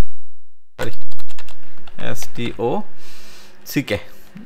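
A computer keyboard clatters with quick, uneven bursts of key presses, loud and close, as a programmer types code for a Flutter tutorial; someone talks over part of the typing.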